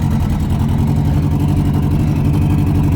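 Engine of a turbocharged all-wheel-drive JDM rally car, running steadily and loud with a deep, even low-end rumble and a pulsing rhythm, close by and continuous with no voices.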